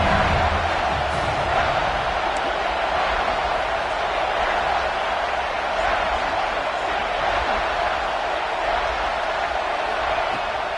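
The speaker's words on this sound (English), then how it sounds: "the Buckeye crowd alive on third down" Large stadium crowd at an Ohio State Buckeyes football game roars steadily on a third down, a dense continuous wash of voices that stays loud and unbroken throughout.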